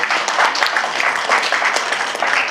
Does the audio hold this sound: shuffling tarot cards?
no